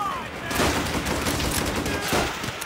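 Dense gunfire in a World at War co-op video game, a continuous loud fusillade of rapid shots filling the whole stretch.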